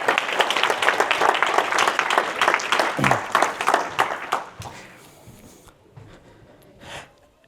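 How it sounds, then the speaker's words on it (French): A church congregation claps in a burst of applause that runs strong for several seconds, then thins and fades away into near quiet, with a few scattered sounds at the end. "applaudissements, s'il vous plaît, pour le serviteur de Dieu"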